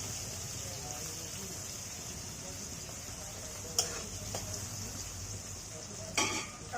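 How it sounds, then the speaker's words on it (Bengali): Round slices of bitter gourd and potato fry in hot oil with a steady, even sizzle and hiss, broken twice by a short metallic clink of a spatula or pan. "করলা আলু ভাজি করে নিচ্ছি"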